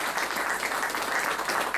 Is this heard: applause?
yes